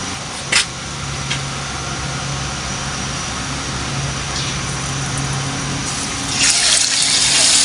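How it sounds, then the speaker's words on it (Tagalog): Chicken pieces dropped into hot cooking oil for Filipino-style street fried chicken, giving a steady loud broadband sizzle and bubbling that runs throughout and swells near the end, with no talking. "So, yung mainit na po ang ating mantika. Pwede na po natin ilagay ang ating chicken."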